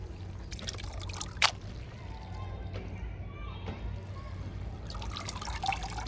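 Pigeon peas (toor dal) are washed in water at home, with light trickling and dripping splashes and occasional louder sloshes over a low steady hum.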